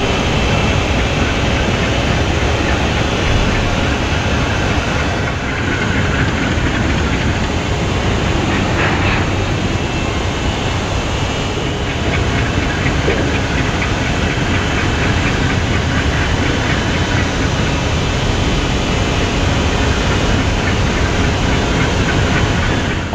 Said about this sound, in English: a crew fires up two of the Conrail B23-7s for their train towards Quitman today